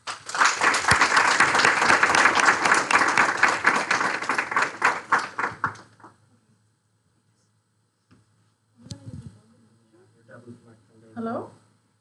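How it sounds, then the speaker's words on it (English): Audience applause for a speaker at a React Stockholm meetup, about six seconds of dense clapping that stops abruptly, followed by quiet and a few brief spoken words. "An applause for Anna."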